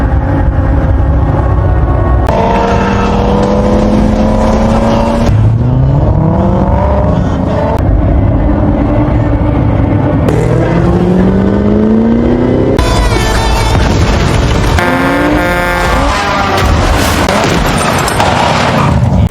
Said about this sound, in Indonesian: James yang sedang abret-abretan menggunakan mobil Mustang kreditannya